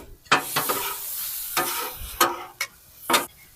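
Ground beef frying in a pan alongside seasoned vegetables for a beef stir fry ramen, with bursts of stirring and scraping over a steady close sizzle.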